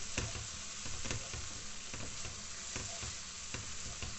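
Grated tomato and other ingredients sizzle and brown in a frying pan, a soft steady crackle with scattered pops and light stirring scrapes, heard alone with no voices.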